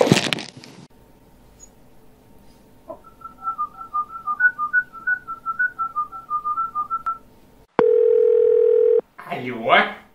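A phone call being placed: a warbling, whistle-like ringing tone repeats for several seconds, followed by a long steady beep. A voice starts speaking right after.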